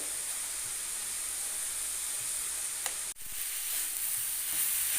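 Papaya stir-frying in a pan with grated ginger, sugar and spices gives a steady, dense sizzle that holds evenly throughout, close and fairly loud, broken by one brief scrape partway through.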